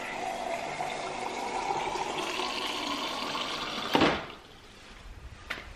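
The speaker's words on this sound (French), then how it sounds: "Donc là je prépare une gourde d'eau." Tap water runs steadily into a water bottle, a continuous filling rush for about four seconds, then a short clunk as the flow stops, followed by quieter handling noises.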